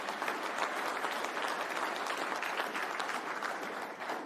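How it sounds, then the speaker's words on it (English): Warm, continuous applause fills a hall at the Fieldays Innovation Awards evening for a young inventor, dense even clapping heard at moderate distance without speech. "What about a round of applause?"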